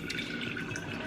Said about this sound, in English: I'm pouring it into a fat separator, and I'm just going to let this sit for, no, I don't even have to let it sit. I'm going to pour this off